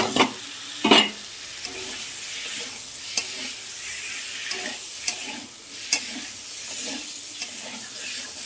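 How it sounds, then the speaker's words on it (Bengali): Spice masala sautéing in a pan for bitter gourd curry: a steady, close sizzle with intermittent scraping stirs and a couple of louder clatters near the start, with no talking. "ভালো করে কষানো হোক।"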